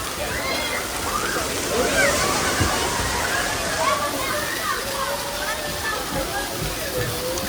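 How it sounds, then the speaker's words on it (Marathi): Water pours and sloshes down from a large water park tank holding one to two hundred litres as it fills and dumps, a steady rushing splash with voices of people talking and calling over it. "भरत आलं की पाणी एकदम सगळं खाली पडतं."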